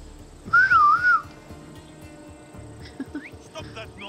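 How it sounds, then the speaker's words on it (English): A single short, wavering whistled phrase in Assassin's Creed Odyssey rises and dips, followed by muffled speech and game sounds. "Who's whistling?"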